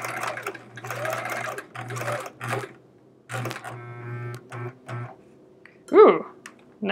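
A sewing machine stitches quilt pieces in short bursts of rapid, rhythmic whirring, separated by brief pauses. A soft voice speaks between the bursts, and a sharper clatter or thump lands near the end.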